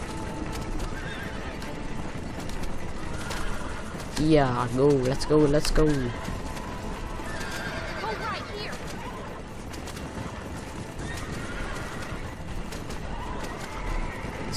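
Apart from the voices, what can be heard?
horses neighing and hooves, video game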